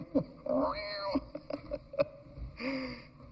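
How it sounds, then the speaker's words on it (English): Cats screech and yowl in a short burst of shrill, wavering cries, several overlapping calls rising and falling over a few seconds, fairly faint and close. "I hope you like the sound of screeching cats, because that's our choir."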